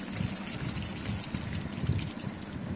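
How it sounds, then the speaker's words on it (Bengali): Water splashes steadily into a pan of prawn and pumpkin curry, a soft continuous pouring patter, faint and close. "এবার আমি আন্দাজ মতন জল দিয়ে দেবো এর মধ্যে।"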